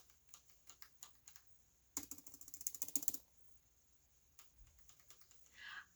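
Soft clicking keys of a new Alienware keyboard, scattered light taps followed by a quick burst of rapid typing, then a few more isolated clicks, all close and quiet.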